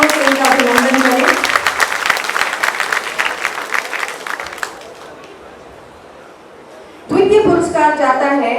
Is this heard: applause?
yes